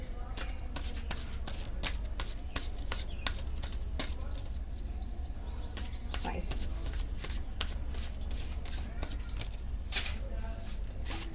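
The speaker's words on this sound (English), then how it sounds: "Why do I get a feeling while shuffling the cards" Rapid, crisp riffling and slapping of tarot cards being shuffled, repeated bursts close up, with a voice talking over part of it.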